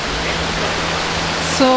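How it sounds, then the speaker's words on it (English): Waterfall at Kings Kloof, heard as a steady rushing wash of falling water from a distance. A voice cuts in briefly near the end. "Do you see the waterfall?"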